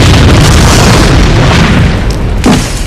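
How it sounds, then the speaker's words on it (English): A massive, loud boom from a church exploding in a quiet Midwestern town, a sustained roaring blast that fills the whole span with dense low rumble and a small secondary burst near the end. "the Holy Cross Church blew up at exactly 7:35 p.m."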